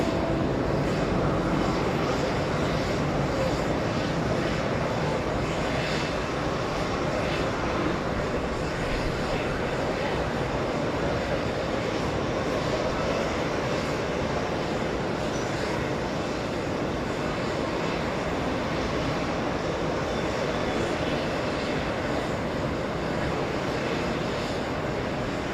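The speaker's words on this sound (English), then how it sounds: "that's the 777." An American Airlines Boeing 777 departing JFK airport, a continuous loud jet engine roar held steady and close, filling the whole stretch without a break.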